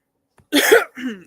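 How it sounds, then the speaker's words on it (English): A single short, harsh cough burst, close up, followed by a smaller second cough after a brief pause. "I had to cough."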